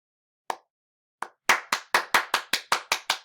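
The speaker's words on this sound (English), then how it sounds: "We should not be doing the slow clap when you're done, okay?" Slow clap from a single pair of hands: two sparse, isolated claps, then a steady accelerating run of crisp, close claps.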